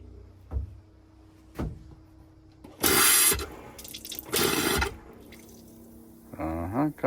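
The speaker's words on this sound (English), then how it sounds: "Sounds like she's pumping." Boat engine pump sucking up antifreeze while a craft is winterized: intermittent gurgling, splashing bursts of liquid with brief pauses between them, ending in a lower rushing gush.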